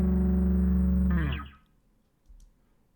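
Distorted bass guitar amp track from a heavy rock/grunge song heard alone, a thick sustained low note that cuts off after about a second and a half and leaves near silence.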